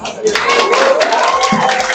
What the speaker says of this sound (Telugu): క్లాప్స్